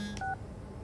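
A phone in the video game Soma gives a short, close electronic beep sequence, with a couple of clear dial tones in under a second.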